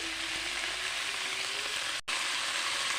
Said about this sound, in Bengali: হালকা ভেজে নেব ঘি দেওয়াতে